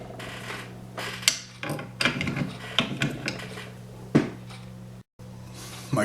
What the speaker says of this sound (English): And then put the bolt back in.